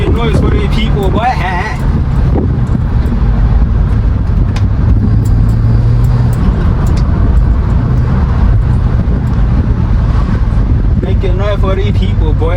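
BMW 330i engine driven hard, a loud continuous road and engine roar with passing traffic, while someone talks excitedly over it for much of the time.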